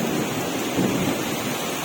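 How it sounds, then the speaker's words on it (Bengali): Heavy rain pours in a dense, steady roar, with a low thundery rumble running underneath and no voices. "ঝমঝম করে বৃষ্টি হচ্ছে, বৃষ্টির শব্দ তুমি বুঝতে পারছো কত জোরে বৃষ্টি হচ্ছে।"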